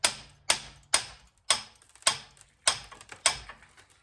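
Seven sharp metallic taps from a rusty bicycle pedal crank on an early 1910s Flanders bicycle, rocked back and forth, each click close and evenly spaced about half a second apart with short ringing decay.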